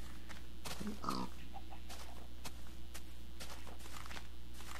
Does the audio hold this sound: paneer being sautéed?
no